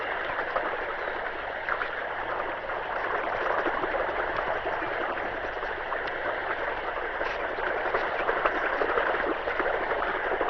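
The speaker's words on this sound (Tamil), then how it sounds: "தோட்டத்துல யாருமே இல்லங்கிற வாய்க்கால இவ்வளவு தண்ணி போகுது" Water runs steadily through an irrigation channel in a farm field, a continuous broadband rushing with light trickling and gurgling, close and even throughout with no voices.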